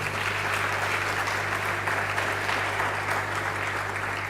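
An audience at an academic microbiology lecture series gives sustained applause for a researcher, a loud, even roar of many hands clapping throughout with no voices over it.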